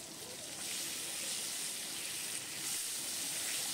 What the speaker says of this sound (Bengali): ডাঁটা আলু দিয়ে ভালো করে একটু ভেজে নিলাম।